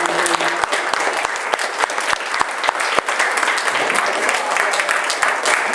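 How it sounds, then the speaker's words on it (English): An audience at a political group meeting gives a round of applause, close and loud with distinct individual claps and some murmuring voices mixed into the steady clapping. "let's give a round of applause for those."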